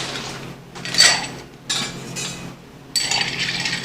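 Ice clinks and rattles in a mixing glass as a Brooklyn cocktail is stirred, giving bright glassy chinks and scraping swirls in a few distinct bursts, close and fairly loud.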